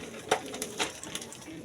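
Pigeons on a small farm coo in several soft, low bursts close by, with no one talking.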